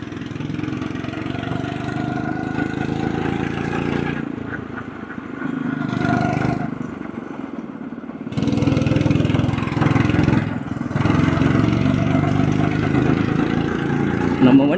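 Go-kart engines run on the ECR Speed Way karting track, buzzing steadily at mid pitch with brief dips. Speech is heard over the continuous engine drone.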